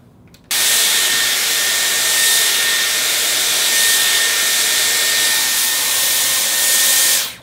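Dyson Airwrap hair styler drying short curly hair, a loud, steady, close-up airy roar that starts abruptly, holds for about seven seconds and cuts off, with no voices.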